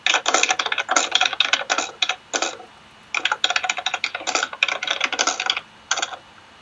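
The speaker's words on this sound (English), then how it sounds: "There's typing." Someone types on a computer keyboard, close and crisp, in quick clattering bursts with a short pause midway and no talking.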